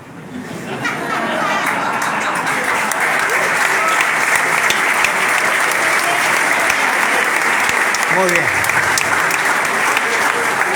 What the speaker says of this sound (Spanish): Este aplauso que ustedes ven que no es generalizado.